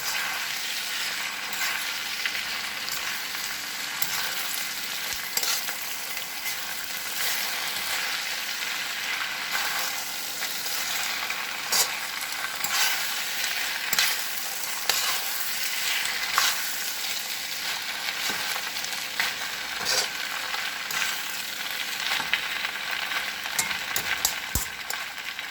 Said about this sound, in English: Let's toss these noodles in these onions and garlic and bean sprouts.